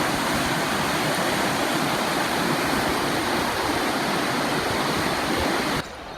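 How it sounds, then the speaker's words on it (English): Laanecoorie Reservoir spillway overflowing in flood, a loud steady rushing roar of falling water heard close and continuous, dropping slightly at the very end. "Laanecoorie spillway overflow there."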